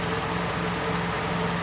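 Toyota Soluna car engine held at a raised, steady idle with a light throttle during air-conditioning service, a continuous close rumble with faint knocking pulses and no voices.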